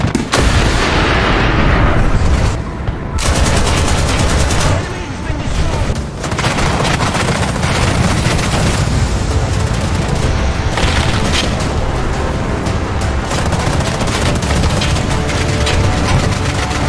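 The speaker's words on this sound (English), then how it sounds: "some of these SPAs with their fast firing cannons" Rapid cannon fire from self-propelled anti-aircraft guns in War Thunder, modern anti-air vehicles engaging WW2 tanks, with dense continuous bursts and heavy booms filling the whole stretch at loud, close range.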